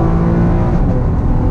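2019 Chevy Camaro RS with V6 and 8-speed transmission accelerating under throttle, a loud close steady engine roar heard from inside the car without speech.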